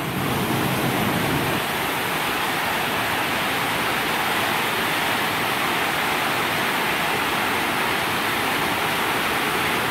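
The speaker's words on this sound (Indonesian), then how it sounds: "Nah, airnya kelihatan deras banget ya, deras banget itu." Fast, heavy floodwater pouring through the Srandakan dam, a dense continuous roar that stays loud and unbroken throughout, with no voices over it.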